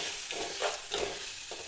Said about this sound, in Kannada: ಇದೆಲ್ಲ ಮೆತ್ತಗಾಗುತ್ತಾನ ಫ್ರೈ ಮಾಡ್ಕೋಬೇಕು